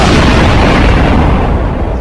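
Explosion sound effect: a loud, dense blast that fills the whole moment, a heavy rumbling roar that stays strong and slowly thins toward the end, with no voices.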